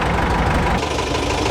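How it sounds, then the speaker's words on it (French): Car engine running at a steady idle, close and loud, with a rough knocking throb and vibration and no talk over it. "le contact, accélérateur, augmenter un peu le ralenti peut-être, et puis démarrage"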